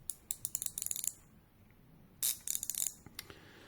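A SATA ratchet wrench clicks rapidly in two bursts of sharp, close metallic ticks separated by a brief pause, heard alone.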